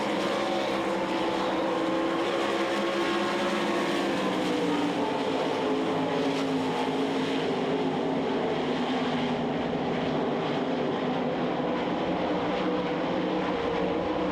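Sprint race cars at the Knoxville Nationals, 360 class, thunder down the front stretch of a dirt oval in a steady, loud roar of many engines that stays dense and continuous throughout.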